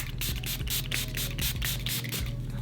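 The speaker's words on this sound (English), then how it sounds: "So I'm gonna go ahead and spray my face." Milani Make It Last setting spray is misted onto a face in a rapid series of short, close hissing puffs, roughly a dozen in quick rhythm, with no talking.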